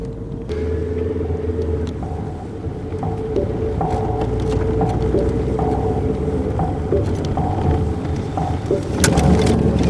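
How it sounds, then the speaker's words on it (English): A car pulling up and stopping, heard from inside as a steady low engine rumble and road drone with a few light knocks and clicks, holding fairly loud throughout. "We're pulling up over here."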